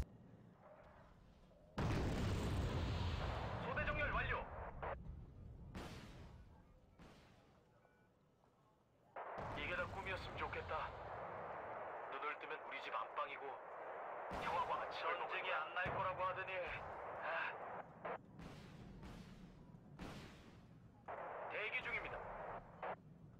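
Heavy artillery fire in a Wargame Red Dragon battle with a NATO Korean deck, booming volleys and crackling impacts swelling in loud stretches with quieter gaps between, no talk over them.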